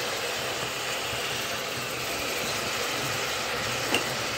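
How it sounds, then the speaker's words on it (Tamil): Chopped tomatoes fry in a pan for a vegetable rice dish, giving a dense, continuous sizzle and hiss at close range. Faint scraping from stirring runs underneath, with one small tap near the end. "ரெண்டு தக்காளியும் போட்டாச்சு. போட்டுட்டு நல்லா கிண்டி விட்டுலாம்."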